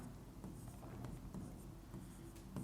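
A pen writes steadily on paper in a study lesson on Rajasthan's forts, giving soft, continuous scratching strokes with a few brief taps, close by and faint, with no one speaking.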